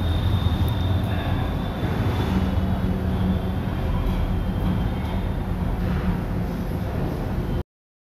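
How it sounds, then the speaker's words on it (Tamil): A Penang Hill funicular train pulls away with a steady low rumble and rolling wheel noise, moderately loud and continuous, ending abruptly. "மறுபடியும் இந்த ஒரு ட்ரெயின் வந்து கிளம்புது."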